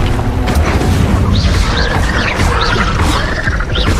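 An Incendio fire spell is cast in the video game Hogwarts Legacy, making a loud, dense burst of magical effects with booming impacts and repeated swooping, chirping tones over constant background rumble.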